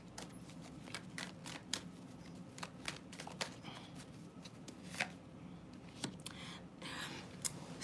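Playing cards being shuffled by hand, a series of quick close riffling bursts repeated steadily, faint and alone without talk.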